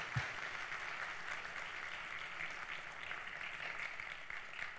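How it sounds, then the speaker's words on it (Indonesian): Steady applause from an audience at an indoor unpacking event, a continuous even wash of many hands clapping that holds its level throughout. "Berikan aplaus untuk mereka."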